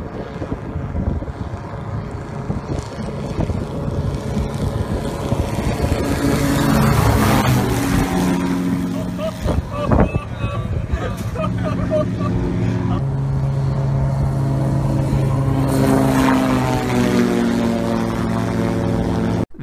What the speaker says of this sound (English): it's a plane that's designed to fly right above the water